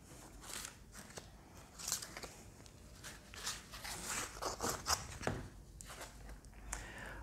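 Tarot cards being drawn and shuffled, giving soft, quiet papery rustles, flicks and small scrapes that come in irregular bursts, close by, with no talking.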